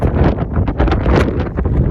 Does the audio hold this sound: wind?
yes